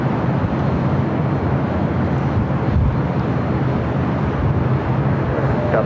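A Southwest Airlines Boeing 737-700 jet arriving from SFO at LAX airport, heard as a loud, steady broadband engine roar that holds evenly throughout, with some wind rumble and no voices.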